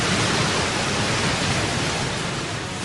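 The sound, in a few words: roaring tidal bore of the Qiantang river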